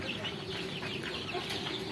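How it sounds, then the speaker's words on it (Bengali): Many small Fayoumi chicks peep and cheep together in a dense, continuous chorus, close by and fairly loud. "আপনারা যে মুরগির বাচ্চাগুলো দেখছেন এগুলো ফিসেল মুরগির বাচ্চা"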